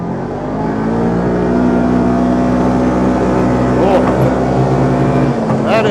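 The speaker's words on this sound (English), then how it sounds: "That is throttle all the way to the floor, and this thing is still trying to get going." A Kawasaki KRX side-by-side engine drones at full throttle, loud and close as its pitch climbs slowly and steadily, with a voice over it.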